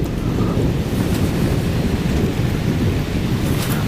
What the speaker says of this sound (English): It's just a line of thunderstorms that are just a column that's running north and south